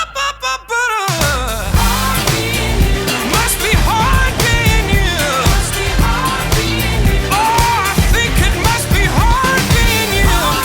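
A song from an EP plays loud and full with a steady beat and melodic parts, after a brief choppy start.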